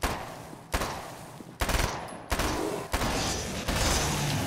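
Gunfire rings out in the video game Alan Wake's American Nightmare as a series of loud, sharp bursts spaced roughly every half to one second, each followed by echoing reverberation.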